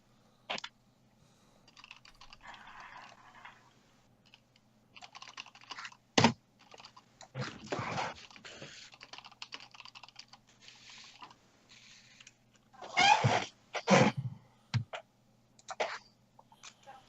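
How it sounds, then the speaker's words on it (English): Loud computer keyboard typing comes in scattered bursts of clattering keystrokes and isolated sharp clicks, close up, with quiet gaps between flurries. "This typing is loud. I think I feel like my keyboard's loud too when I type though."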